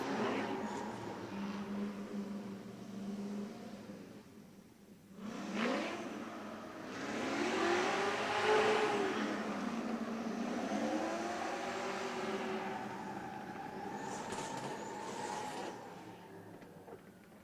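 Drift car at a Formula D Great Lakes Pro-Am round at Lake Erie Speedway, its engine roaring and surging through rising and falling revs over several seconds, heard from a moderate distance with a steady background wash.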